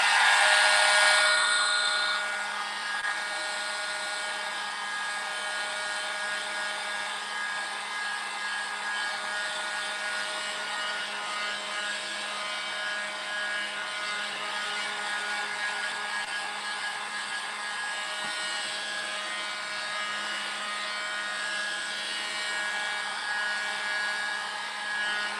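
A hair dryer blowing on a painted wooden heart to dry it, a steady close whooshing hum with a slightly louder start, running unbroken with no talking.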